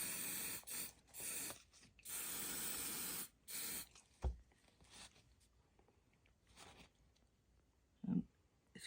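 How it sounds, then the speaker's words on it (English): Hairspray misted onto a craft wig for a children's pilgrim costume, heard as several short hissing spray bursts close by, followed by quieter handling noises and a soft knock. "And then I want to take the hairspray"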